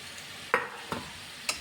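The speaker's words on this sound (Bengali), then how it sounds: "এখন বাটা মশলাও দিয়ে দিলাম, ভালো করে কষিয়ে নেব।" Spice paste being sautéed and stirred in a pan while cooking lunch, heard as three brief, separate scraping strokes over a faint, low sizzle, with no talking.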